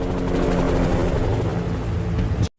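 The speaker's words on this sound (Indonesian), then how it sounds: "helikopter akhirnya tiba dan langsung membawa mereka ke tempat pengungsian" A helicopter arrives during a zombie outbreak evacuation in Seoul, its loud, close rotor thump and engine roar steady throughout before cutting off abruptly.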